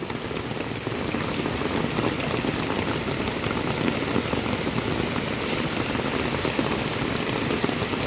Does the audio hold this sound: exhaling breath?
no